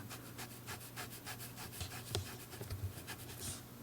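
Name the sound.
brush painting green ink onto paper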